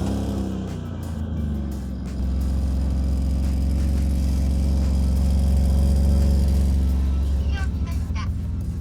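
Ferrari 575M driving on a cold day, its engine a steady loud low rumble that swells slightly after the first couple of seconds and holds continuous, with faint talk underneath.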